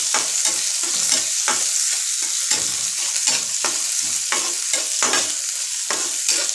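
Chopped onions and green chillies sautéing in a hot pan for a greens stir-fry, a steady close sizzle broken by repeated scraping stirs of a spoon, no voices.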